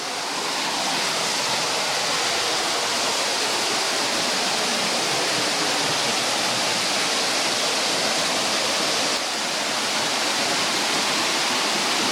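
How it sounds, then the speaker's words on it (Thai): Saeng Chan waterfall in Ubon Ratchathani in the rainy season, where water pours down into a hole in the rock, gives a loud, constant roaring rush that stays unbroken and close throughout, with no voices. "น้ำตกไหลลงรูครับ"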